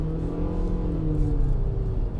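A Honda CR-V engine pulls out at a dangerous intersection, a steady close motor whir with a slight rising pitch as it accelerates through a couple of seconds, no voices.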